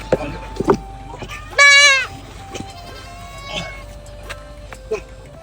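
A goat gives one loud, wavering bleat nearby, amid scattered clicks, rustles and faint background noise.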